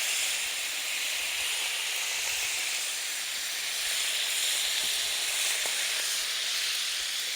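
Vegetables sizzle on a hot griddle with a steady, loud hiss throughout, the broadband crackle holding even with a slight swell partway through and no voices over it.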